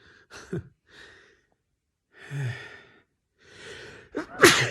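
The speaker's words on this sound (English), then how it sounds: "Sorry, I need to sneeze." A single sneeze bursts out near the end, preceded by a few quiet breaths and sighing inhales in an otherwise silent room, close and fairly loud at the release.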